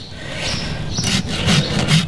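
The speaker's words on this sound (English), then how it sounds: "Now we're gonna rasp this hoof." A farrier's rasp scrapes across a horse hoof in a few close, rhythmic rough strokes, loud and with no talking.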